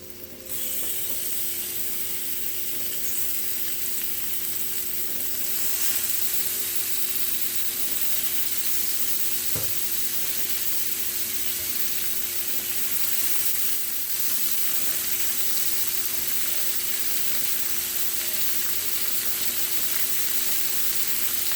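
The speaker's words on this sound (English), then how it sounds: "Okay, our pan should be hot enough, so we're gonna go ahead and start adding our shrimp" Shrimp sizzling in a hot skillet, a loud continuous frying hiss that holds steady for over twenty seconds with a faint low hum beneath it and a few soft clicks, no voices.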